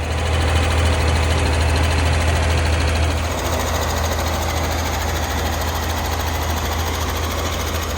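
A 1960s Chevrolet Corvair engine, over 60 years old, idles steadily and loudly outdoors right after being started following a cold valve adjustment, with a dense continuous rumble and clattering roughness throughout and no talking.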